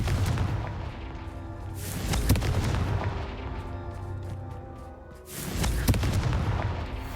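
A Confringo fire spell in Hogwarts Legacy bursts into explosive booms with heavy rumbling impacts, loud and close, one blast midway and another swelling near the end over continuous game ambience.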